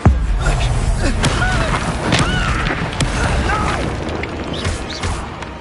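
A Confringo spell blast in Hogwarts Legacy, a burst of dense, crashing game noise with booming thuds and short whooshing streaks that stays loud and busy throughout.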